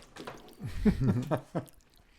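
Someone chews a cookie made with real Quebec maple syrup close to the mic, soft wet squishy bites in an uneven rhythm with a low murmur underneath.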